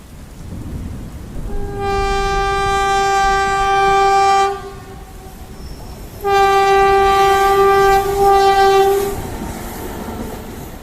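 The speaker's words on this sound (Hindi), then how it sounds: "सामने से एक रेल आ रहा था।" A train on a railway line sounds two long, loud, steady horn blasts of about three seconds each, separated by a short gap, over a rumbling rail background.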